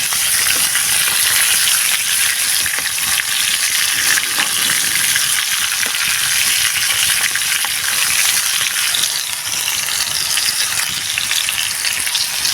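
Cepaki mushrooms and chili are stirred as they fry in a pan outdoors, giving a loud, continuous sizzling hiss with scraping and spatter throughout and no voices.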